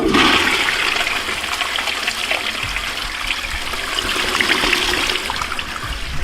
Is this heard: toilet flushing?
yes